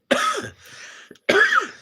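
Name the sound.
coughing from a cold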